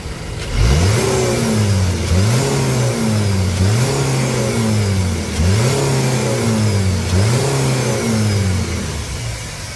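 A Chevrolet S10 Flex engine revs repeatedly, each throttle blip rising and falling in a rhythmic series of loud, close sweeps over a steady idle, with no talking.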